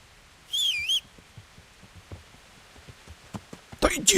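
A character whistles for a horse in the medieval game Kingdom Come: Deliverance: a short warbling whistle rings out over a quiet background, and a louder, sharper whistle burst follows near the end.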